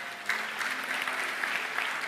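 A church congregation applauds during a sermon, a continuous moderate round of clapping heard alone from a middle distance.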